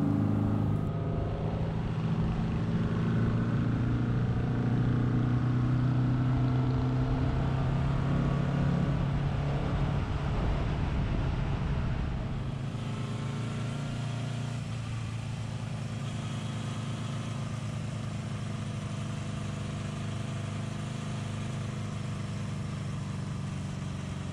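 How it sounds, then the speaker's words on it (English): A 1982 Moto Guzzi 850 Le Mans Mark III motorcycle rides along a road, its engine a steady, close drone mixed with wind rush that eases a little partway through. "It's a 55-kilometre ride from home to Jerry's."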